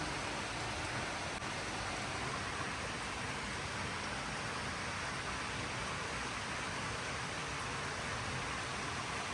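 Rain falls outside in a steady, unbroken hiss of dense drops that stays at one level from start to finish, with no voices.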